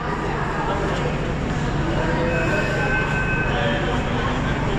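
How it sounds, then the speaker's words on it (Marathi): A Pune metro train stands at an underground station platform, giving a steady, loud rumble and hum with faint high squeals drifting over the din. "मित्रांनो तर मेट्रो आलेली आहे स्वारगेटला जाणारी लोक आहेत"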